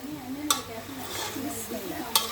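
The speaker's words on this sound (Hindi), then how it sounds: "अब इसको ना हम अच्छी तरह जो है ना वो फ्राई करेंगे।" Chicken fries in a pot with salt, a soft sizzle underneath as a spoon stirs and scrapes, with two sharp metallic taps against the pot.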